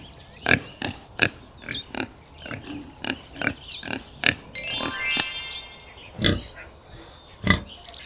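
A pig grunts in a regular series of short, punchy grunts, close and loud, with one longer drawn-out squeal in the middle.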